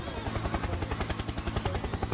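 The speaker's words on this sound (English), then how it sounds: "Helicopter, helicopter." A helicopter's rotor thumps in a fast, steady chopping rhythm, loud and close, continuing throughout without any voices.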